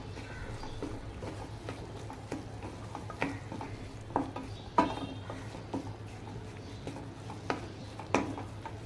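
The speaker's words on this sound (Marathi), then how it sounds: "आता आपण हे गव्हाचं पीठ घेतले, ते घालून छान परतून घेऊया" Wheat flour is stirred and roasted in a pan for mushroom soup, giving a quiet scraping sizzle broken by sharp spatula clicks and taps against the pan.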